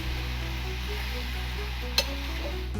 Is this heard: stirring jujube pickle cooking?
yes